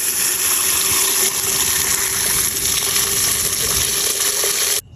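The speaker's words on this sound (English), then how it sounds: "you can pour some water over the top and let it soak" Water pours steadily over sumac berries into a pitcher, a continuous close gushing splash with a faint tonal hum, stopping abruptly near the end.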